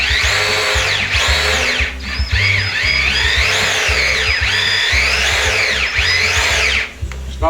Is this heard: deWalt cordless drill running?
yes